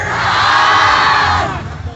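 A group of children shout together loudly on a count, a sustained, close, high-pitched crowd cry that holds for over a second and then breaks off into scattered voices.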